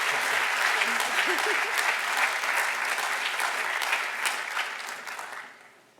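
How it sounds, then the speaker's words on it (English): Sustained audience applause at a university graduate recognition ceremony honoring student award winners, a dense wash of clapping that stays steady for most of the span before fading out near the end. "Let's give one more round of applause to all of our student winners."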